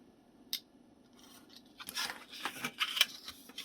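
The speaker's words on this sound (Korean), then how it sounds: "여기를 좀 사다리꼴로 비스듬히 잘라주세요" Scissors snipping through old book paper, cutting an angled trapezoid flap for a handmade envelope; a single crisp snip, then a quicker run of close, dry cuts.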